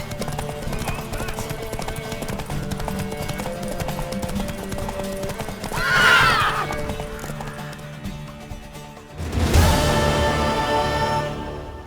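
Horse hooves clip-clop steadily along in the video game The Witcher 3: Wild Hunt while two loud neighs ring out, one midway and one near the end, over a soft musical backdrop.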